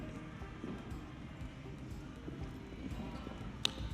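Hooves of a five-year-old show jumper thud softly across an arena during a 1.05 m class, a faint, uneven clip-clop over quiet background murmur.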